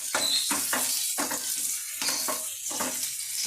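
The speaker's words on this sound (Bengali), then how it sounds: "পেঁয়াজ কুচিটা আমি দু হাতা এইভাবে নেড়ে ছেড়ে নেব।" Chopped onion frying in a pan, a loud close sizzle punctuated by rhythmic stirring strokes of a ladle, roughly one every half second.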